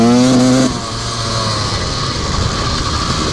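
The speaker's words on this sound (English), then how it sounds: "as you can see right there, it's sputtering still, so that means it's not all the way warmed up" A cold Honda CR125 two-stroke dirt bike engine sputters unevenly at idle, a loud close rasp with a brief throttle blip at the start that drops to a rough, uneven running note.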